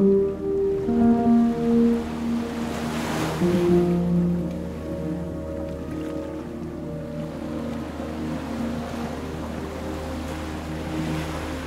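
Distant ocean surf rolls in a steady wash on Kenawa Island, Indonesia, with wind through weeds, a low droning hum and faint tonal rumble through the first few seconds.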